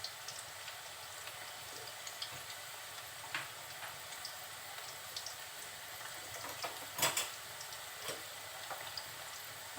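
Spice paste frying with soft onions in hot oil, giving a steady low crackling sizzle with small pops and an occasional brief clatter, fairly quiet and with no voices.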